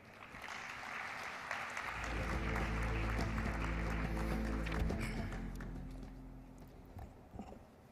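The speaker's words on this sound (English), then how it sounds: "thank you for applauding our Secretary General" An audience at a ministerial round table forum for Girls in ICT Day applauds the Secretary General, steady clapping swelling from the start to a loud sustained peak before tapering off, with a low hum underneath.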